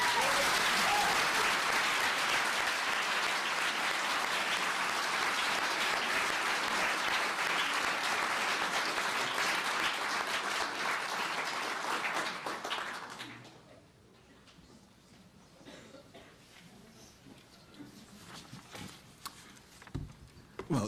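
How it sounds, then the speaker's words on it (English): An audience at a live speaking event claps loudly and densely for about thirteen seconds before the applause fades to a quiet room. "So both clapping and jazz hands are most welcome."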